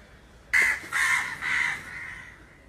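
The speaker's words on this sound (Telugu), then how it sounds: "మా ఊర్లో కాకులు ఎక్కువండి." Three harsh crow caws ring out one after another in a village, fairly close and clear against a quiet background, the last call trailing off.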